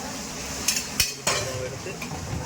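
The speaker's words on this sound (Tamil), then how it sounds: "இப்போ நம்ம அந்த ட்ரேயில் நெய் தடவை வச்சுருக்கோம் இதை அப்படியே மொண்டு அதில் ஊற்ற வேண்டியதுதான்" Thick wheat halwa being scooped from the pan with a metal ladle and poured into a ghee-greased tray: three or four sharp metal clinks over a constant background sizzle of ghee and oil.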